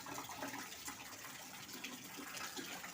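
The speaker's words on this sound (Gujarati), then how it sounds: "જો પાણીના ટાંકા છલકાઈ ગયા," Water overflowing from water tanks at a temple, a continuous even rushing and splashing gush, moderately faint and steady, with no voices.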